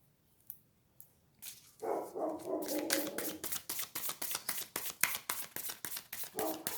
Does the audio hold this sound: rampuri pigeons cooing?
no